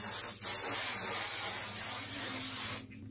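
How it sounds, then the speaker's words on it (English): GHD Perfect Ending strong-hold hairspray sprays in one steady, close hiss lasting nearly three seconds, then cuts off abruptly. "I'm just going to use the GHD Perfect Ending hairspray, which has got a fairly strong hold in it"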